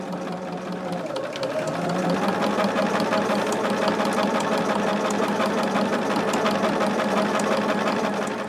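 A home sewing machine runs steadily and continuously, stitching fabric at close range with a dense mechanical whir and no speech.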